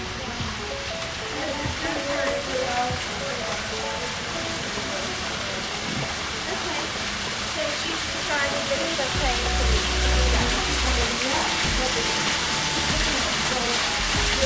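Waterfalls pour steadily behind an outdoor amphitheater in Sunken Gardens, St. Petersburg, Florida, a continuous broadband rush of falling water with a low rumble that swells slightly near the end.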